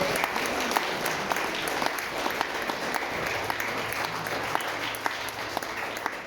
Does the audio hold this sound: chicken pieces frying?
no